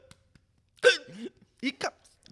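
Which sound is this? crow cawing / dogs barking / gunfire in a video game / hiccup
hiccup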